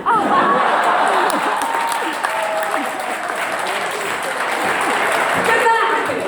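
A comedy club audience at an alumni night breaks into sustained applause, a dense wash of clapping that holds steady throughout, with scattered whoops and voices inside it.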